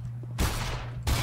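Two heavy shotgun blasts from a double-barrel shotgun in the video game Black Mesa, each a loud broad burst with a short tail, the second arriving just under a second after the first.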